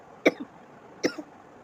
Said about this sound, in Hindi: खाँसी हो रही है मुझको।